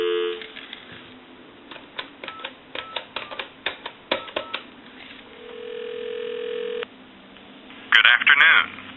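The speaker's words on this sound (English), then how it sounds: "So we'll go ahead and call the time and temp number now." A Western Electric multi-line telephone with hold, converted after repair, gives a steady dial tone, then a run of sharp dialing clicks and a held tone as the time-and-temperature number is called, ending in a brief louder ring burst.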